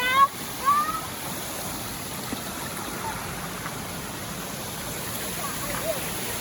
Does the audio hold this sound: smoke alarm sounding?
no